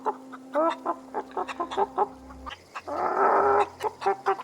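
A chicken in The Outer Worlds clucks in short repeated bursts, near and clear over a low game hum, with a denser rasping squawk in the middle.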